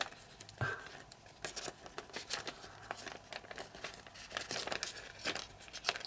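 Origami paper is folded and squashed close up, giving bursts of crisp crinkling and crackling at an uneven rhythm, with no voices.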